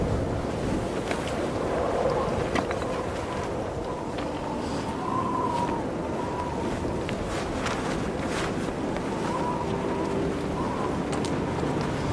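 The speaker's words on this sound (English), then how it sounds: "It's cold, windy, and miserable out here." Steady wind roars and buffets the microphone outdoors high up in Yellowstone before dawn, a continuous rough rush with occasional gusty thumps.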